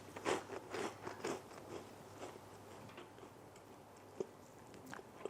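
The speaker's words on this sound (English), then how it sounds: "Okay, crispiness, let's crack it up. Beautiful sound." Crispy toast from a toaster oven being bitten, giving several quiet crunchy bites and cracks in the first second and a half, followed by fainter chewing crackles and a few isolated ticks, with no talking.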